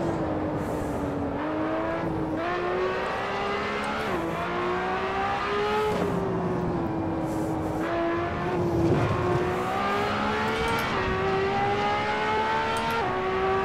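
Race car in the driving game Assetto Corsa, a very fast car compared to a Formula 1 machine, engine screaming continuously as it climbs through the revs, with repeated gear shifts and brief dips, loud and steady throughout.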